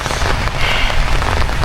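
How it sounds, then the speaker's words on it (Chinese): Heavy rain falls steadily on a grassland campsite in Xinjiang's Tangbula grassland amid strong wind, a loud, dense, continuous hiss close by. "天上又都在下雨。"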